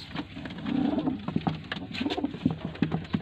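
Paired loft pigeons in Lahore give repeated low rolling coos, one bird after another, close and fairly steady, with light shuffling and patter between calls and no talking.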